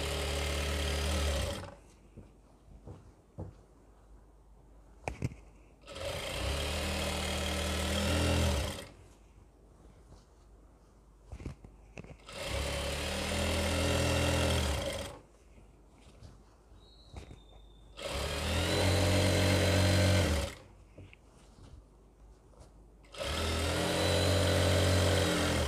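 A sewing machine stitches elastic onto an Afghani salwar, its motor whirring loudly in about five sustained runs of several seconds each, separated by quieter pauses with light handling noises.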